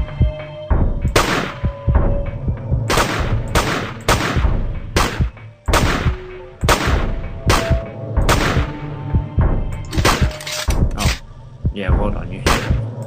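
Rapid bursts of gunfire from a flash shooting game, loud repeated shots and volleys in irregular clusters across the whole stretch, with a steady hum beneath and some voice mixed in.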